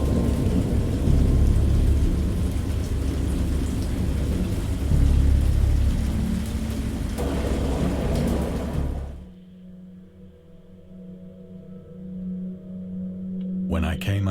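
A great storm with heavy rain and deep rolling thunder roars loudly for about nine seconds, then fades to a quieter patter with distant rumbles.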